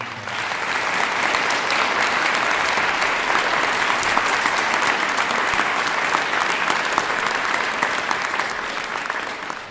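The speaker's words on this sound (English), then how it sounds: "I'd like to have one more round of applause for our city." A large crowd at a regional planning summit breaks into loud, dense applause, a steady roar of clapping that holds throughout and eases slightly at the end.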